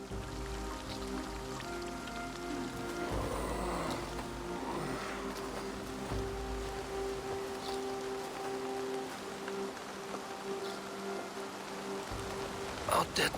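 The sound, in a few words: rain in video game Assassin's Creed Valhalla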